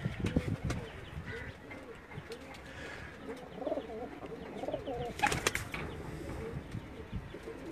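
Sialkoti pigeons of the Garla breed coo intermittently nearby, with bursts of wing flapping and faint chirps over low background noise.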